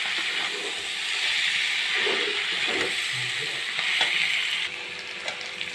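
Cabbage frying in oil in a home kitchen pan, a steady close sizzling hiss that runs throughout, with faint stirring clinks and small pops and no voices.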